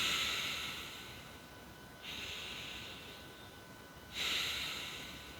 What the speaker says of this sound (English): take 10 deep breaths.